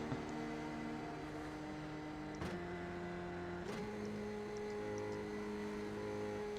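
A Formula 3 race car in the iRacing simulator at Spa drones steadily at a distance, with two quick gear shifts that break and re-pitch the engine note, fairly faint.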